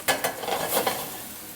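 Onions sauté in a hot pan for a Greek Isle chicken dish, giving a short burst of sizzling with a few stirring scrapes, close and fairly loud, then fading into a softer hiss.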